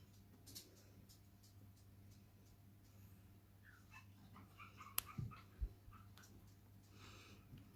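Newborn puppies give faint, high squeaks and whimpers at intervals in a quiet indoor room, with a low steady hum underneath and no talking.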